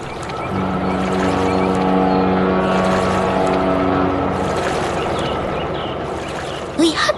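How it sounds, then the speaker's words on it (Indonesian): A deep, steady drone of a giant cargo ship's engine with strong low harmonic hum, continuous throughout, fading slightly near the end, with a brief knock at the close. "Lihatlah kapal kargo raksasa itu."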